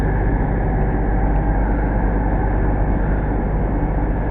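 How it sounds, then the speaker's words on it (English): A CrossCountry train pulls into Reading station, a loud, steady, low rumble of engine and wheels that fills the whole stretch without pause. "the cross-country train's just pulled over here"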